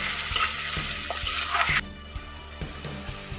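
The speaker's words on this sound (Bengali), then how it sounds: "এবার আমি একটু নাড়তে থাকবো, এগুলো একটু ভাজা ভাজা হবে।" Green chillies fry in a pan while being stirred, a bright sizzle with soft scraping knocks that quietens sharply partway through as the stirring continues.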